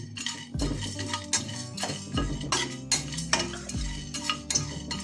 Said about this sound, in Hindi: ये सबको मैं थोड़ा सा रोस्ट करूँगी। गरम कढ़ाई है, इसमें डाल करके रोस्ट कर देंगे।